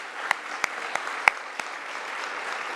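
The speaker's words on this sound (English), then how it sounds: "let's give her a round of applause" An audience at an entrepreneur awards induction ceremony claps for a female inductee, a soft, distant wash of applause punctuated by a few sharp, louder individual claps nearby.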